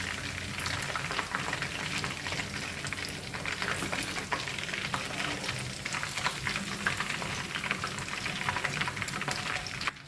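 Chicken pieces deep-frying in hot oil for a spicy Tamil chicken fry, a dense, steady crackling sizzle and bubbling heard close and continuous for the whole stretch, with no voices.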